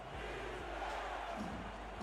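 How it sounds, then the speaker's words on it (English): Simulated crowd noise from a Charleston home stadium in a football video game wild card playoff, a steady loud roar of fans building over the whole stretch. "the Charleston crowd getting loud, trying to will their team to a date in the southeast corner of this country"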